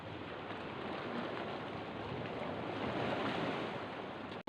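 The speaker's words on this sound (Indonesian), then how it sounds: "Gelombang laut atau ombak, adalah fenomena alam berupa gerakan penaikan dan penurunan, serta bergulungnya air secara perlahan" Sea waves rolling onto the shore, a constant full wash of surf with gentle swells, close and fairly loud, ending abruptly.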